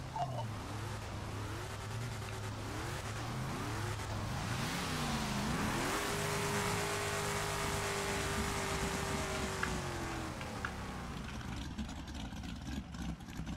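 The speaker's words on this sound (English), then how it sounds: "Golly, sounds like a small block in that thing" A small-block V8 race car engine roars and revs through gear changes, pitch climbing and dropping repeatedly, loud and continuous with no talking.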